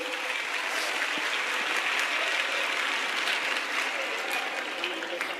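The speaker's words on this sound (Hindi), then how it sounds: "तालियों से स्वागत करेंगे।" An audience on stage at a religious gathering breaks into sustained, dense applause welcoming a guest, a steady even roar of clapping throughout.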